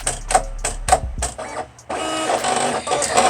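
A Silhouette Cameo cutting machine runs a cutting job, giving a string of short mechanical whirring bursts followed by a steadier, louder buzzing motor drone near at hand, with no talk.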